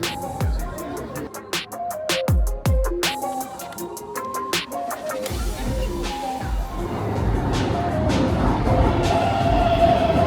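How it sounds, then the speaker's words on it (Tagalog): A train in Japan, heard from inside or alongside, with a run of sharp rhythmic clacks and bell-like clicks, then a steady rising rumble as it gets moving. A voice briefly speaks. "So, we're gonna ride this train for 52 minutes."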